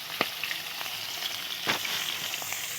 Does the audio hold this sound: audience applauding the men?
no